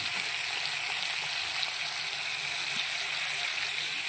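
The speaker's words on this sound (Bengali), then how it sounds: "কড়াই একটু লেগে যাচ্ছিলো বলে মটর সিদ্ধ জলটা দিয়ে তারপরে মশলাটা কষাচ্ছি" Spices of turmeric, cumin and coriander powder sizzle and bubble in a kadai after pea-boiling water is added. The frying is a steady close hiss with no talking.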